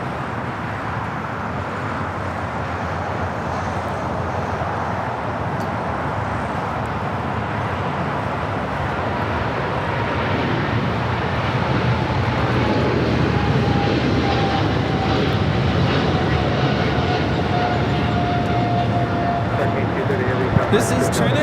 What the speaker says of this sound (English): This is China Cargo Airlines 230 taking off to Shenzhen on the 777 freighter